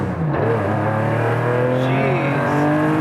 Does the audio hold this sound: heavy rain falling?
no